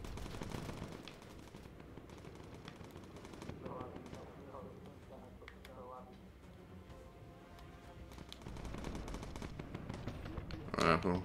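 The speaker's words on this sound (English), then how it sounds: "Just shooting, guys." Bomber guns firing in Bomber Crew, heard as faint, rapid bursts of automatic fire at the start and end of a quiet stretch, with someone talking over them.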